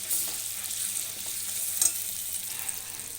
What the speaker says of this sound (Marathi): ह्या मसाल्याला चांगलं तर तेलामध्ये सगळं परतून घेते बघा